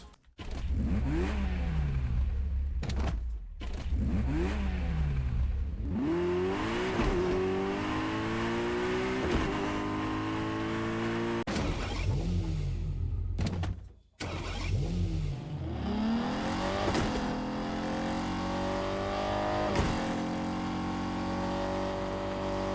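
A Fortnite car engine revs repeatedly, pitch climbing through gears with brief drops between shifts, loud and continuous with no voices.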